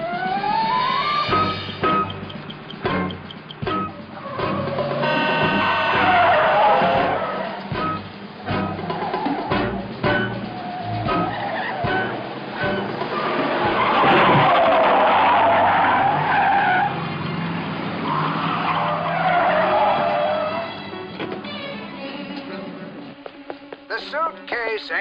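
Car tires squeal and skid repeatedly during a high-speed getaway in a TV drama, with engine roar and continuous loud screeching under occasional dialogue.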